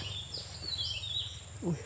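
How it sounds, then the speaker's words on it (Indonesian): Birds calling in a garden orchard with durian trees, a few faint chirps and whistles over a low steady background hum, with a brief louder call near the end. "Ada suara burung."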